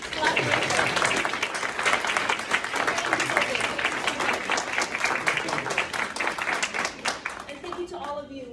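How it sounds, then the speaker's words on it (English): Audience applause at a poetry reading, a dense wash of many hands clapping steadily for several seconds, fairly close and loud, thinning slightly near the end as a voice begins. "how about another round of applause for this collaboration?"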